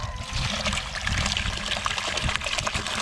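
Well water runs steadily into a bucket from a long-idle well, a continuous close trickle and splash with a rushing liquid texture and no voices.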